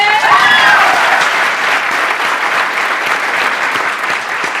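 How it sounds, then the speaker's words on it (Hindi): A large seminar audience breaks into loud, sustained applause and claps steadily throughout, a dense, even wash of many hands with a faint voice briefly heard at the start. "इन लोगों के लिए जोरदार तालियां।"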